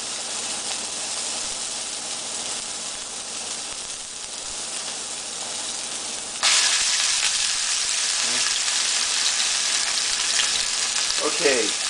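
Thick hamburger patties frying in a frying pan, a steady broadband sizzle throughout that jumps louder about midway as more sizzling starts. Light handling noises come through near the end.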